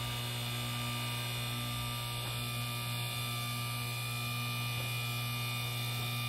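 The motor of a portable car and truck lift rated at 8,000 lbs hums steadily and evenly throughout, a constant low electric drone with no break.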